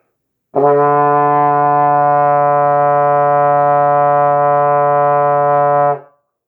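A single sustained concert D sounds on trombone, with the slide in first position. The note is bright and steady, held alone for roughly five seconds at close range before ending cleanly.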